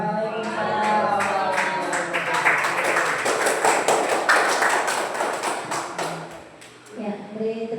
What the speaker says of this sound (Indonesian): beri tepuk tangan sekali lagi untuk Ibu Nana SPD